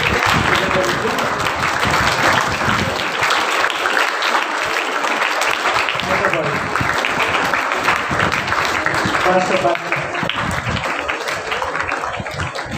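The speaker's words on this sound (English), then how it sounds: "Please clap for that." Audience clapping at a Women's Equality Day program on stage, a dense, steady burst of applause lasting throughout, with speech-like voices and cheering mixed in underneath.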